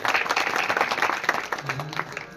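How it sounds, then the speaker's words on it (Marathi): Applause from the audience at a kirtan gathering in Anandwadi, Latur, a dense patter of clapping from many hands lasting a couple of seconds and trailing off, with some voices mixed in. "म्हणून त्यांच्यासाठी परत एकदा जोरदार टाळी."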